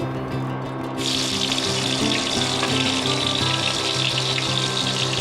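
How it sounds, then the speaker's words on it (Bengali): Eggplant slices coated in salt and turmeric fry in hot oil for a hilsa curry, giving a steady, loud, dense sizzle that swells after the first second and continues alone without any talk. "তেলটা গরম হয়ে গেছে এবারে আমি এই বেগুনগুলো কেটে লবণ হলুদ মাখিয়ে রেখেছি এগুলো আমি আগে ভেজে নেব"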